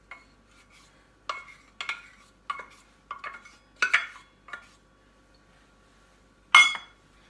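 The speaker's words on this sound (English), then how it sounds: "I'm going to add in the buffalo sauce, and then I'm going to mix that together. So I'm going to use a spoon" A spoon clinks against a pan while stirring buffalo sauce into milk, giving a series of sharp metallic taps at an uneven pace, close and fairly clear, with a louder clatter near the end and no talking.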